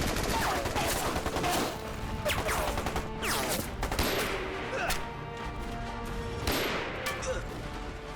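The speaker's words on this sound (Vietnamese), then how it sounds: "Ngài nghe kỹ đi, đó là súng máy kiểu tiệp và cả súng lục Mao giờ nữa." Battle in an anti-Japanese war action film: dense volleys of Czech-type machine-gun and Mauser pistol fire, loud and continuous, with sharp cracks and whooshing passes layered through the fight.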